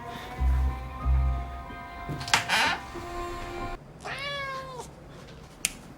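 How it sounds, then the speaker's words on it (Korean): A stray cat meows inside a house, giving one clear, drawn-out call that rises and falls. Low thumps and a short clatter come before it, over a faint background hum. "그 정체는 바로 길고양이였죠"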